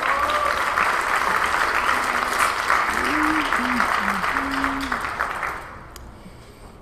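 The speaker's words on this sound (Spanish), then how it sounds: "Démosle un aplauso, por favor" An audience at a Mexican gastronomy forum claps for a chef, broad steady applause that holds for several seconds with faint voices underneath, then thins and fades near the end.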